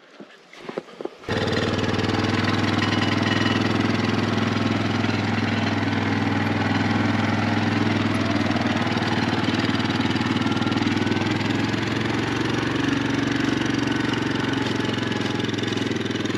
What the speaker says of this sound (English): Right, Megan, you run the quad up for me?